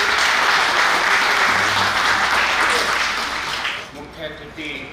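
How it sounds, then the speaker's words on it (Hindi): A room of people gives loud applause for a retiring man at his farewell ceremony, dense clapping that fades over the last second as a voice begins to speak. "तो सर के लिए एक बार जोरदार ताली।"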